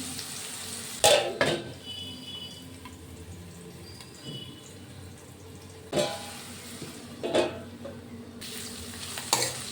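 Food cooking in a pan is stirred, giving a few sharp spoon scrapes spaced apart over a steady low sizzle, with no talking.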